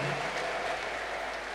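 A church congregation claps together in a dense, steady burst of applause, close and loud throughout with no break.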